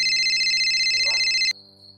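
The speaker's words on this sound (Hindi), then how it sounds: "तभी उन्हें वेदा का फोन आया।" A phone ringtone rings loudly with a steady repeating electronic tone for about a second and a half, then cuts off abruptly, leaving a faint quiet hum.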